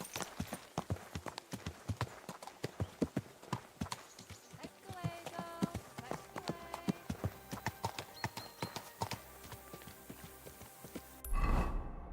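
Steady clip-clop of horse hooves at a walking pace in a medieval video game, fairly close, with a brief louder rustle near the end.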